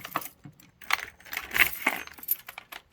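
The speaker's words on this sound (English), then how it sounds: "We've got the wall of keys." A bunch of keys from a garage wall jangles and clinks in several close, bright metallic bursts, with no talking.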